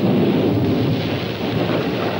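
A thunderstorm on Mars rumbles with deep, rolling thunder over a heavy, steady downpour of rain, loud and close throughout with no voices.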